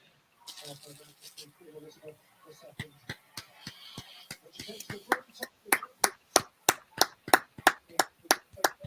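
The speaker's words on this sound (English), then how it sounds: "Minutes applause for Queen Elizabeth II." Stadium crowd at a Premier League match between Spurs and Leicester applauding for Queen Elizabeth II; scattered claps build into a steady rhythmic group clapping, with a voice talking early on.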